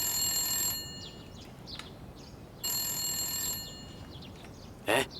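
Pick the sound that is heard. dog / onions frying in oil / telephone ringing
telephone ringing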